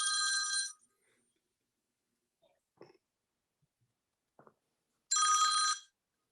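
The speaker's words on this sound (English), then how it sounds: "I'm sorry about the ringing." Telephone bell ringing in two loud, electronic bursts at the start and end, separated by near silence with a few faint handling noises during a recorded oral history interview.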